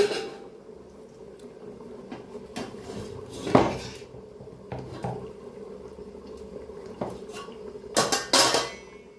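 Rice being layered into a pot over cooked chicken for chicken dum biryani, heard as a series of metal spoon clinks and scrapes against the vessel, with a louder clatter of utensils near the end.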